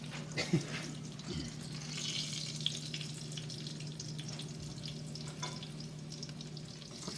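Oil sizzling over eggplants in a hot pan: a quiet, steady frying hiss with small crackles and a faint background hum.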